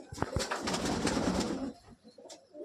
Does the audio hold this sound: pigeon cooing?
yes